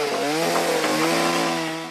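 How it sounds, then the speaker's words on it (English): A chainsaw roars loudly at high revs in a film scene from The Mosquito Coast, a steady buzzing drone held close and alone for about two seconds before it begins to ease off. "there was a little bit of charm when he drowned himself out with a chainsaw"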